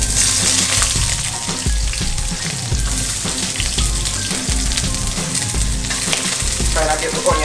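Onion dropped into hot oil on medium-high heat for Jamaican brown stew chicken, a loud continuous sizzle with stirring clatter, close and steady, no voices.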